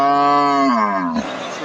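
A Friesian dairy cow at the Aftabganj cattle market in Nawabganj gives one long, loud moo that slides downward and ends after about a second, followed by a rough exhale and busy market noise.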